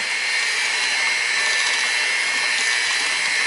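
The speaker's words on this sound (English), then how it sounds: "I use my trusty Cuisinart mixer. I'm going to start out on low." A Cuisinart electric mixer whirs on low as raspberry clafoutis batter is blended, giving a steady, close, unbroken whine with a slight wet churning texture and no talking.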